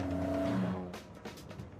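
A Japanese performance car's engine roars briefly with a steady tonal drone, then drops back to a rougher, lower rumble as the revs fall off.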